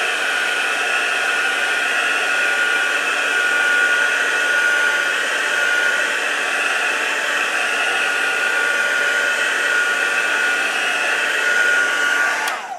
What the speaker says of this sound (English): I'm actually going to take the heat gun first.